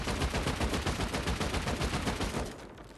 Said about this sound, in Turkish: 19 tane patlayıcı mermimizi atacağız